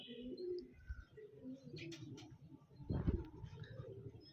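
Soft pigeon coos and light chirps from a female pigeon and others sound nearby, low and quiet, with a brief louder burst of activity midway.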